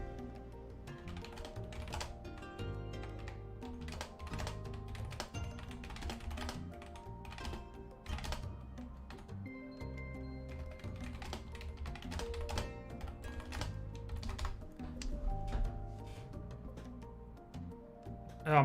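Steady, quiet typing on a computer keyboard, with rapid irregular key clicks running throughout at close range and no voice over them.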